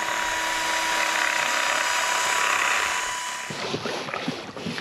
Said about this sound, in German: Jetzt wird hier mit einem 10er Bohrer ein 12er Loch gebohrt.